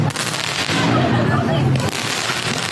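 Fireworks going off on Bonfire Night, a dense run of crackling, popping bursts layered over crowd noise and voices throughout.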